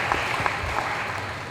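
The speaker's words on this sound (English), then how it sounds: "Y'all give her a round of applause." An audience applauds a speaker at a community conversation event, a steady, fairly close burst of many hands clapping that continues throughout.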